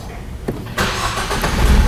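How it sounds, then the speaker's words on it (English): A 2013 Ford Focus engine cranks and catches, a brief cranking sound followed by the engine settling into a steady, loud idle rumble close by. "we're going to need to go start the vehicle up and watch what happens."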